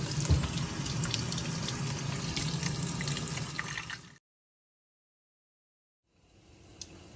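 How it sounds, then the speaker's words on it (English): Pimento seeds are rinsed under a running kitchen tap, making a steady splashing hiss for a few seconds. The water stops, there is silence, and then a fainter trickle resumes. "I'm gonna wash them off and add them to the pot."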